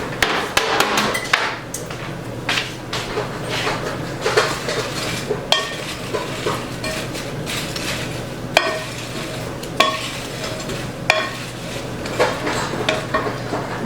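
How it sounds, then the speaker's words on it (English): Potatoes with garlic, oil and seasonings are tossed and mixed in a bowl, making continuous loud knocking, clattering and scraping close by, with no voices. "And then we're going to mix that up."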